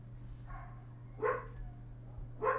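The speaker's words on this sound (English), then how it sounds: "Sorry if you guys hear the neighborhood dogs freaking out." Neighborhood dogs bark in two short bursts, one a little after the other, fairly distant over a steady low hum.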